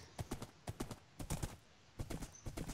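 Horse hooves galloping in the Minecraft video game, a rapid clip-clop pattern in bursts of quick thuds with brief pauses between runs, clear and close with no talking.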